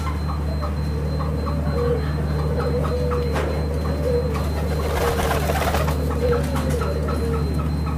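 An ivory-coloured collared dove coos in a repeated series of soft, low, rolling calls at a steady rhythm, close and clear over a constant low background hum, with no talking.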